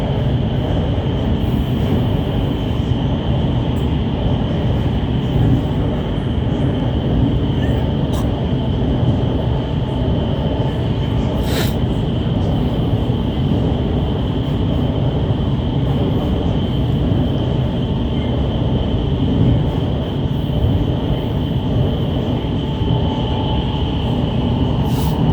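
Shenzhen Metro train rumbling steadily along the line, a continuous loud wheel and motor roar with a constant high whine and a brief clank partway through.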